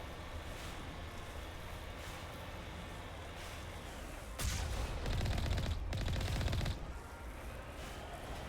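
The Mako vehicle's cannon in Mass Effect Legendary Edition fires rapid, punchy bursts over a steady rumbling game backdrop, two loud volleys close together and then falling back to the drone.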